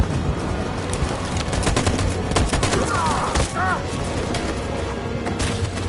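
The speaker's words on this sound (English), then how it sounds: "That machine gun is taking down everything that moves!" Machine gun fire in the video game Detroit: Become Human, dense rapid bursts of shots layered in a loud chaotic battle mix, with brief game sounds and no spoken words.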